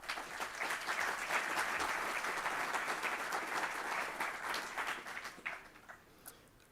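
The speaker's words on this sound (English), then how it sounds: "Let's give them another round of applause." A crowd applauds steadily for several seconds, then the clapping thins out and fades to a few scattered claps.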